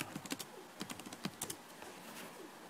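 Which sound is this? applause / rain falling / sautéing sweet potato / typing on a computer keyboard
typing on a computer keyboard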